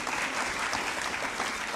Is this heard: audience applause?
yes